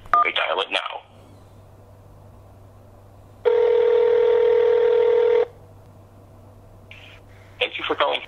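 A telephone keypad on a call to an automated phone line, a single steady dialing tone held for about two seconds, set between stretches of a voice talking nearby.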